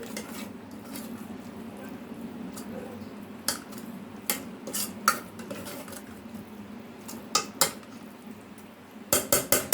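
A lid lifted off a cooking pot of sweet vermicelli zarda, with scattered metallic clinks and light taps against a quiet kitchen background, ending in a quick cluster of sharp rattling clanks.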